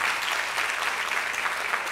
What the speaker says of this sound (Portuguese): Pode aplaudir o Senhor, não tem problema não